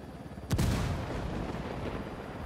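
A single sharp, loud blast erupts from the player character in the Ghost Recon Wildlands video game, followed by a rumbling decay and steady background noise.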